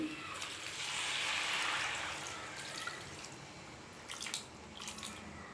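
Water goes into a pan of masala coating meat pieces for a boti fry, a faint hissing splash that swells early and then settles into quiet sizzling with a few small drips.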